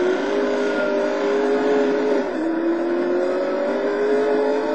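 A Lister Storm race car engine screaming at close to 190 mph in the Total Immersion Racing video game, a loud sustained high-revving drone with a brief pitch dip as it shifts gear, no talk.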